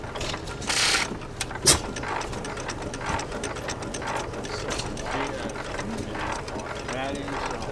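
An Armstrong 6 hp cam wobbler hit and miss engine runs at a show with a clattering, ratcheting mechanical rhythm, heard under people talking nearby.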